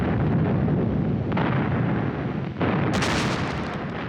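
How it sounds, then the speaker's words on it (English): Artillery gun salvos fired in celebration in Moscow's Red Square, loud heavy booms and rumbling blasts following one another in quick succession, with a sharper crack near the end. "Stalin ordered 12 124-gun salvos and a barrage of fireworks in Moscow's Red Square"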